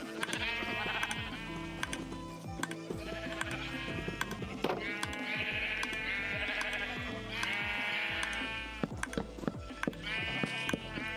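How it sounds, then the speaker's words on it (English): Sheep in the video game Minecraft bleat repeatedly against a game background, with several drawn-out calls and short clicking sounds in between, loud and close, with occasional talk. "this kind of works too because the sheep is in the background"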